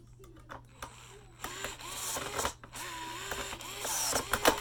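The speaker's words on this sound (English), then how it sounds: "And we'll take the other little T15s. Screw them all in." Small T15 screws being driven into plastic during a Kirby vacuum teardown: close, repeated ratcheting squeaks and grinding clicks from a driver turning in short strokes, over a low steady hum.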